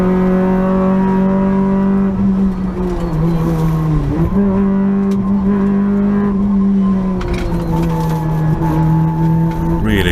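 A rally car at the Mull Rally on a closed road stage, its engine held at high revs with a strong steady tone that dips briefly and climbs again, loud and close, as if heard from inside the car.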